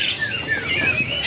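Zebra doves, perkutut, at a bird kiosk give high chirping calls with short rising and falling tones, close and fairly loud, alone without talk.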